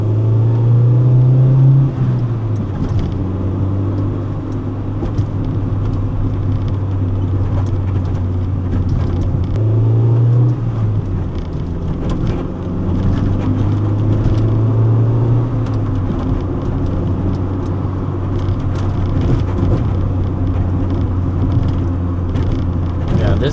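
Inside a manual Acura Integra DC4 Type S on an open road, a steady engine drone climbs, drops briefly at each gear shift, then settles into a low cruising hum.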